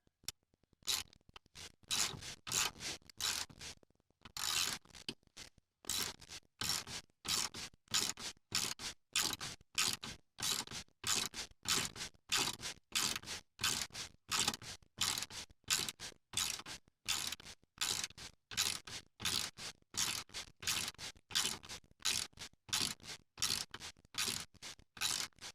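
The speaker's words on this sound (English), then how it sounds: "Put some new bolts here. Let's get this snug down." Bolts being tightened on a Choptop with a ratcheting tool, a long run of crisp, evenly spaced clicks repeating steadily at close range with a brief pause near the start, no voices.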